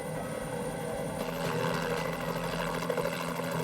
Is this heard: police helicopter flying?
yes